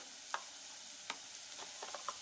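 Spices frying in oil for chana masala, a soft steady sizzle with a few faint clicks of stirring, quiet and close, with no speech.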